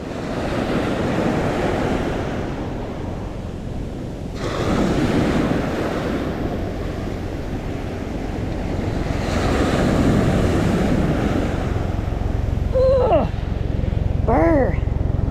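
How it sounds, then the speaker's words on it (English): Ocean waves surging and breaking on a sandy shell beach, a steady broadband wash with swells rising around the middle and end, mixed with wind noise on the microphone and brief voice sounds near the end. "Go away, waves."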